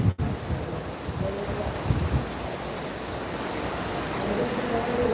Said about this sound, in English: hear the water around behind me